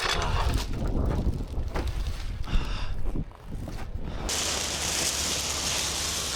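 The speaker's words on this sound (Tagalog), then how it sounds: "Sana mawala na yung hangin." Steady winter wind buffeting the microphone outdoors beside a flatbed truck, rough and continuous, growing into a broader hissing rush toward the end.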